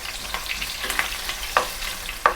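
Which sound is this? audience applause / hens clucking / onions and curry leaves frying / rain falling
onions and curry leaves frying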